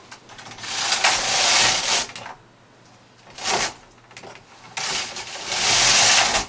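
A flat bed knitting machine knitting a tube sock, its carriage sliding across the needle bed in repeated loud, rattling whooshing passes separated by brief quiet pauses.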